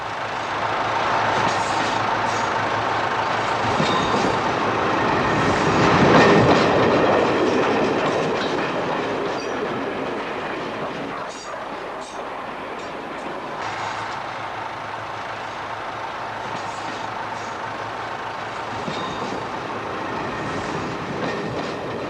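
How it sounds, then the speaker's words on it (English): A local passenger train runs on a country railway with a steady rumble and the clickety-clack of its wheels, building slightly and then easing off, heard alone without talk. "leaving only these local trains"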